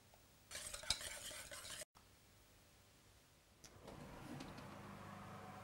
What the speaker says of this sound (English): I'm just going to mix some cream into that mixture